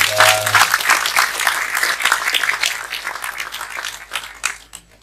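Loud, lively audience applause for a guest at an Indonesian gathering, many hands clapping in a thick, uneven burst that gradually thins and fades over a few seconds.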